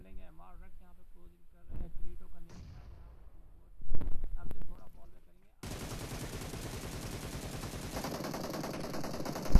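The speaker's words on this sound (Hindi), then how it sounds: "लेकिन M16 के साथ यहाँ पे जैक को नॉक फिनिश करेंगे" M16 rifle fire in a battle royale match, rapid bursts of shots in the back half, loud and dense, following a stretch of commentary voice with scattered softer pops.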